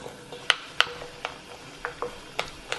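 Pepper flakes and sugar being mixed in a pan, a series of crisp clicks and scrapes from a utensil against the pan, irregularly spaced and close, with no speech.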